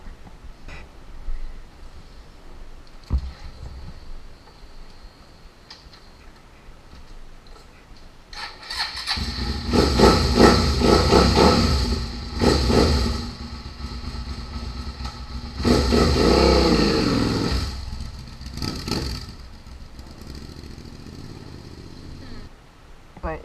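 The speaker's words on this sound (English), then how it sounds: "You shouldn't have to rev it up while you are sitting in first gear with the clutch pulled in." Motorcycle engine idling and then revving in several loud surges while sitting in first gear with the clutch pulled in, close by, with people talking intermittently around it.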